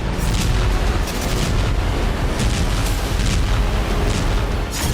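Loud, continuous booming and crackling blasts from missile and rocket strikes in war-torn Bakhmut, a dense rumbling roar with sharp bursts.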